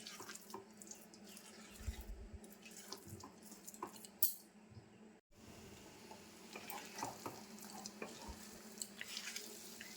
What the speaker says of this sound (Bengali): এইভাবে নাড়াচাড়া করে করে নারকেল নাড়ুটা শুকিয়ে নিতে হবে